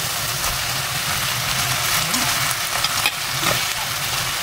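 Prawns hit the hot pan of a Hai Di Lao–style Chinese stir fry, giving a loud, steady, close sizzle with faint stirring throughout.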